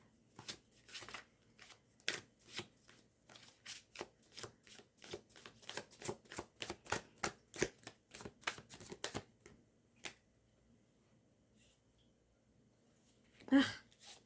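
Tarot cards being shuffled up close, a rapid run of crisp slapping riffles for about ten seconds, then quiet and one last soft rustle near the end, with no talking.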